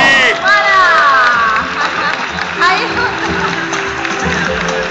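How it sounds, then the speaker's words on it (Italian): A crowd bursts into applause and cheering at an indoor celebration, dense clapping and excited voices filling the space while people talk over it. "Vai con l'applauso!"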